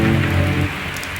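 Steady, dense rain pours down during a storm, loud and close. The low rumble at the start fades after about half a second.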